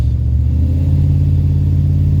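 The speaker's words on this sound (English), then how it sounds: "that exhaust leak is mildly annoying though" A flatbed truck engine idles close by with an exhaust leak, giving a loud, steady low rumble with a faint ticking pulse and no talk over it.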